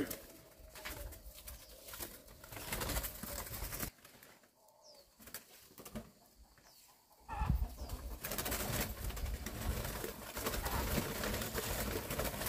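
Caged turtle doves coo softly on a farm raising them, with brief wing flutters and rustling amid background noise; the calls are faint and intermittent.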